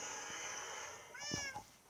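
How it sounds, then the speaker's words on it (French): A cat meows once, faint and brief, in the video game Minecraft, over a steady hum of background game sound. "Oh, un chat."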